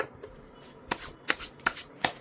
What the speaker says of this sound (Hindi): I'm doing shuffling in front of you